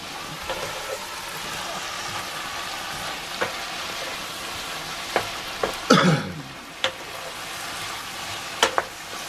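Leftovers frying in a pan on a stove aboard the Corsican, with oregano just added: a steady, close sizzle running throughout, broken by occasional sharp clicks and a louder scrape of a utensil against the pan.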